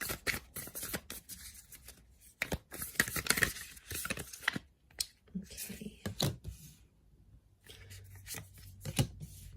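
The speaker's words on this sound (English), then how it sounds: "let's give the cards a shuffle" Tarot cards shuffled by hand in a weekend reading, a close, papery riffle and flutter in bursts with brief pauses between, some speech mixed in.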